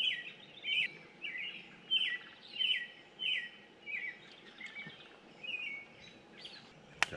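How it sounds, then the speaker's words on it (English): Birds chirp outdoors at a truck campsite beside a tailgate grill, with repeated short bright calls roughly once a second over a quiet low rumble, moderately close, and one sharp click near the end. "birds chirping"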